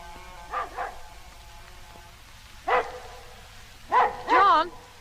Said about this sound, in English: What's the matter with the dog? He's been going on like that for nearly 20 minutes.